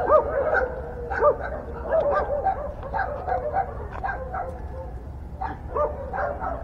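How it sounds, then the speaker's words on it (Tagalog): Several dogs fight at a distance outdoors near the sea, an ongoing jumble of yips, barks and whimpering snarls repeating throughout. "ingay ng aso. Gaaway. Labanan na sila. Gaaway ang mga aso."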